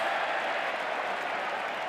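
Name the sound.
rugby league crowd chorusing for a penalty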